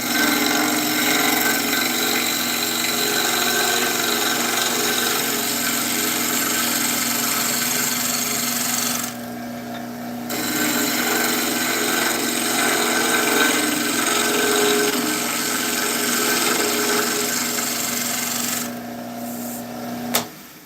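A woodturning tool makes a shear scrape across a shallow wooden finger bowl spinning on a lathe: a steady, continuous rasping hiss with a short pause midway and another near the end.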